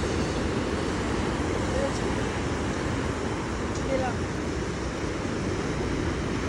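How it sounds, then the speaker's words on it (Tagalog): Big ocean waves roll onto a black sand beach near an old lighthouse at Luna, La Union, a constant loud roar of surf mixed with wind buffeting the microphone, without pause. "Alon ang lalaki oh"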